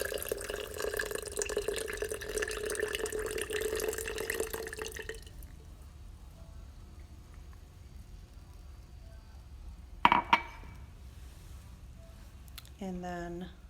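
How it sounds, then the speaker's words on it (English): Water runs in a steady stream for several seconds into a bowl on a scale while making sourdough, then stops. Quiet handling noises and a short clatter follow. "I'm going to add the same amount of water,"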